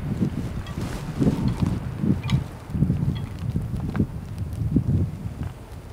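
Wind buffets the microphone outdoors in uneven low rumbling gusts at Vulture City ghost town in Wickenburg, Arizona, with faint wind chime tinkles scattered through the noise.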